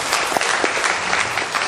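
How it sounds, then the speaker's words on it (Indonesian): Audience applause at a testimonial gathering, a steady burst of dense clapping heard alone for under two seconds. "Tepuk tangan dong buat portir."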